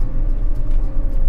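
John Deere sugar cane harvester driving slowly at around 4 mph, a steady, loud low engine rumble with mechanical drone, continuous and close, no talking.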